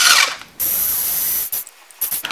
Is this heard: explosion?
no